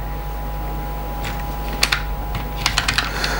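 Several quick key presses on an A4Tech G800V keyboard, a short cluster of sharp clicks then a few spaced taps, close up over a steady low hum.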